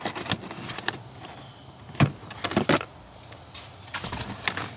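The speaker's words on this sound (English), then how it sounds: "We're gonna pull this trim piece out." Plastic interior trim piece pried off inside the front of a car, giving a few sharp clicks and snaps with scraping in between, close and moderately loud, no talking.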